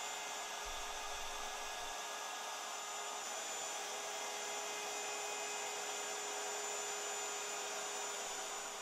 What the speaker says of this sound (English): Now I route a channel around the entire top frame